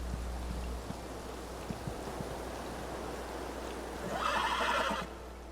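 A horse neighs near the end in a short, loud whinny, rising over steady rushing ambience like water or wind in the Elder Scrolls video game.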